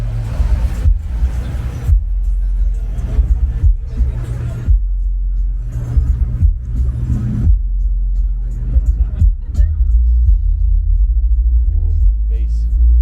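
Heavy car-audio bass pounds at a busy Cars and Coffee meet, a dense low rumble that pulses on and off for several seconds among idling engines and crowd chatter.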